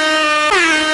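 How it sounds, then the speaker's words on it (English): A loud, sustained air horn blares steadily for the full second at a basketball broadcast, with a brief pitch dip midway before the blast continues. "That's an air horn. That's not a buzzer."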